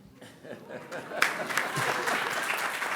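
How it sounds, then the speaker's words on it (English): Quick applause breaks out at an international forum on Africa's future, starting after a quiet moment and swelling into steady, fairly soft clapping from the crowd, with a voice heard briefly near the start. "It's a quick applause."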